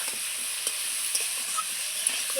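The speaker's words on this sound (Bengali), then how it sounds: "এই লাউটাকে একটু ভেজে নেব, তাহলে কি হবে, লাউয়ের কাঁচা গন্ধ যে থাকে সেই গন্ধটা থাকবে না।" Bottle gourd pieces frying with turmeric in a pan for a fish curry, giving a continuous gentle sizzle with light stirring clicks, close and alone.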